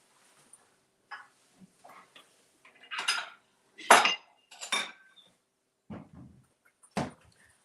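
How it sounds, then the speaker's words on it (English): A utensil scrapes around the sides of a small container in a string of separate short strokes and clinks, some louder and sharper than others, close by with quiet pauses between. "Let's see if I can scrape up the sides"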